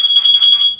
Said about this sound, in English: This is another carbon monoxide alarm.